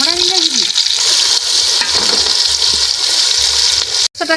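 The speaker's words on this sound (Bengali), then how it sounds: "এই তেলের মধ্যে আমি টমেটোটা দিয়ে দিচ্ছি। এই কুচানো পেঁয়াজগুলোও তেলের মধ্যে দিয়ে দিচ্ছি।" Tomato and chopped onions sizzle hard in hot oil for a country chicken curry, a loud, steady crackling frying hiss with occasional stirring clatter and a sharp drop to near silence just before the end.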